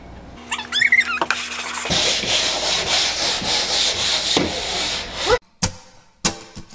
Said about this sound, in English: so sanded the walls.